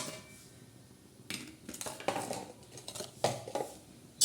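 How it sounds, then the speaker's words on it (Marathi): Peanuts are dry-roasted in a pan for sabudana khichdi, with soft scraping and clinks of a spoon against the metal in short, irregular bursts over quiet background. "चांगले असे खरपूस शेंगदाणे भाजायचे"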